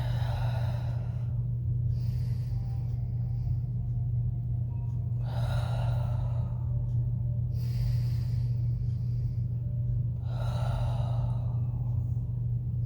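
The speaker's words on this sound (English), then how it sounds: "So breathing into the belly, ribs, chest." Deep three-part breaths fill the belly, ribs and chest, three slow audible breathing passes spaced several seconds apart over a steady low ocean-like rumble, close with no talking.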